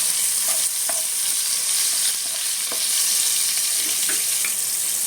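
Tomato frying in a hot pan with a drumstick curry, a loud continuous sizzle with scattered scraping and clicking from stirring, no talking.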